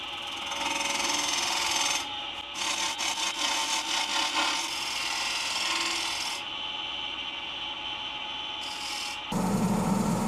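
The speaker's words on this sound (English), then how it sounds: "a final touch of hand sanding with the grain to get rid of circle scratches" Steady back-and-forth rasp of sandpaper rubbed by hand along the grain of a wooden bowl, close and continuous, with a rhythmic stroking stretch partway through and no talking.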